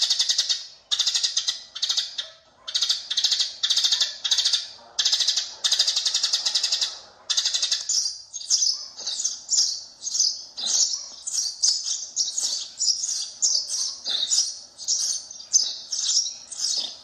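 Recorded bird calls played from a WS898 bird-lure speaker, rapid repeated high chirping bursts in regular pulses, loud and close, later turning into quicker varied tweets.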